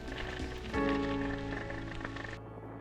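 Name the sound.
wind and rain storm at the quay in Cesme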